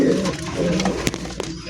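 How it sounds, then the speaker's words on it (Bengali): Madrasi Golla pigeons coo close by, with a soft, continuous, throaty murmur and a few brief rustles over a steady background hum. "দেখেন কত বড় কবুতর, প্রায় এক হাত কবুতর"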